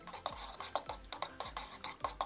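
A stirring stick swirls red dye into melted paraffin wax in a container for a beer candle, making rapid rhythmic scraping and tapping strokes close up, about a dozen in quick succession with no speech.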